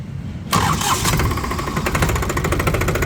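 A New Holland 3630 tractor engine turns over with a sudden loud catch, then settles into a close, steady, rhythmic diesel idle that keeps chugging to the end.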